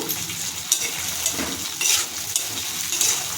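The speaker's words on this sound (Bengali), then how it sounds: "পেঁয়াজ ভেজে নেওয়ার পর এবার দিয়ে দিচ্ছি নুন হলুদ মাখানো চিংড়ি মাছ, এটা পেঁয়াজের সাথে ভেজে নেব।" Prawns coated with salt and turmeric fry with chopped onions in a pan, giving a steady, close sizzle broken by occasional stirring scrapes and light utensil clinks, with no talking.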